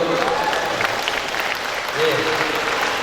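Steady applause from a crowd clapping for teachers during a ministerial visit to a Sekolah Rakyat school in Kediri, lasting the whole stretch with voices mixed into the clapping.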